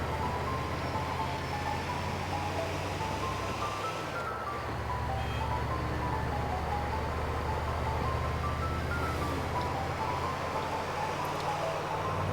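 An ice cream van in the video game GTA IV plays its tinkling jingle over a steady low engine and street rumble, carrying on without pause with no one speaking.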